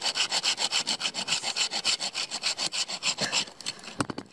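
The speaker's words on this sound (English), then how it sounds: "I need a knife to scrape it. You have to scrape it back." A knife blade scrapes resin-rich fatwood in fast, even back-and-forth strokes, a rasping rhythm that runs close and loud before breaking into a few irregular scrapes at the end.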